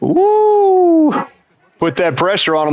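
A household dog lets out a long, drawn-out whine or howl, pauses, then gives several higher yips and whimpers, close by and loud, while a man cheers over it.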